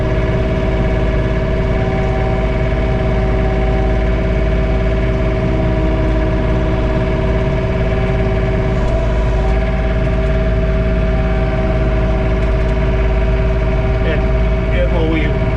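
A John Deere 3046R compact tractor engine idles steadily, heard from inside the closed cab during a blizzard, a continuous low drone with constant hum and no voices.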